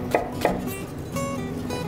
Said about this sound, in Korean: 양파는 건더기로서 어떤 역할을 하는 것이 아니라 어떤 전체적인 맛을 조절하는 양념에 가까운 뭐 그런 역할을 하기 때문에 너무 굵지 않게 좀 얇게 썰어주시는 게 좋습니다